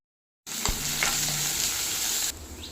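Loud, steady sizzling of chopped onions, turmeric and chilli powder frying in a pan, beginning abruptly, with a stir or two and a clink early on.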